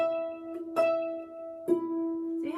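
Harp octaves in the tune Bonny at Morn, plucked as steady quarter notes; three clear ringing plucks with sustained tones that overlap, close and moderately soft.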